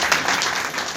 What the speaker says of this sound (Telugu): చప్పట్లో చప్పట్లో.